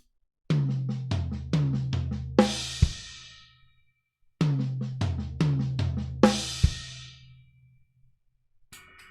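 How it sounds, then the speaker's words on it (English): Solo drum fill played twice: quick left-hand double strokes on snare and toms cascading downward, ending on a crash cymbal, with a short pause between repeats. "there is a really nice fill-in, which is using quite a lot of like double strokes on the left hand"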